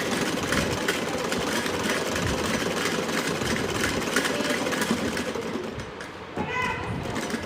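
Sewing machine stitching a kurta collar, a continuous close mechanical whirr and rapid clatter running throughout, with children's voices and talk in the background.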